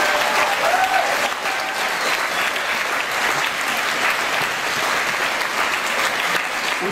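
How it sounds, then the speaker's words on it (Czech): A live comedy-show crowd gives a singer a long, steady round of applause, dense and even throughout with no talking over it. "myslím, že si zaslouží ještě jeden velký potlesk od vás"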